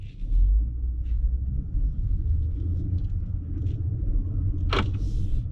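A 2023 Lexus LS500 F-Sport pulls away on a drive, heard from inside the cabin as a steady, smooth low rumble with a brief sharp click near the end.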